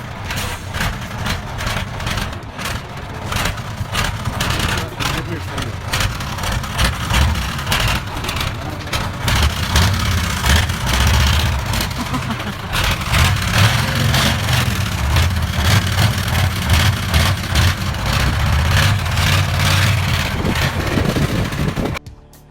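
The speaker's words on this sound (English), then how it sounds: "he took to bigger risk by revving the engine without fully releasing the clutch" A ZIL 131 6x6 truck's engine revs heavily while the clutch is not fully released, a loud continuous low rumble and growl that surges and holds for over twenty seconds before cutting off.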